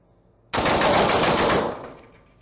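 A rifle fires in fast succession, a loud close burst of shots lasting about a second before a decaying echo, with no voices.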